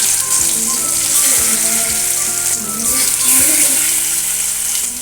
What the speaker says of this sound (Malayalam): ഇനി നമുക്ക് മീൻ ഓരോന്നായി അതിലേക്ക് ഇട്ട് പൊരിച്ചെടുക്കാം.